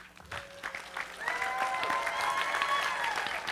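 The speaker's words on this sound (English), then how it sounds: "give them a big round of applause for our Hocus Pocus team" An audience at a Hocus Pocus reunion panel at a sci-fi fan convention breaks into applause that swells from scattered claps into sustained clapping, with cheers and whoops rising over it.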